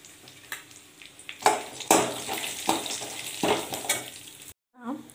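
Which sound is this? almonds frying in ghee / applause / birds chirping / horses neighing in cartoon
almonds frying in ghee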